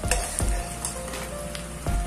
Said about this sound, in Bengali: আর এই পেঁয়াজ মরিচটা হালকা একটু নরম হয়ে আসলেই বেশি ভাজা লাগবে না